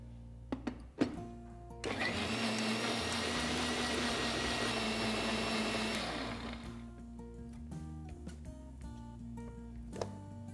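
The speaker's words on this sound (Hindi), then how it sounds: "इसे अच्छी तरह से ग्राइंड करना है" An electric grinder churns sweet dosa batter with turmeric and water in a loud, steady whirring grind that runs for several seconds. A few clinks come before it, and the motor then winds down to quiet, with no talking.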